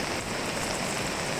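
Heavy monsoon rain pours steadily in Madhya Pradesh, a dense, constant hiss of downpour with no voices.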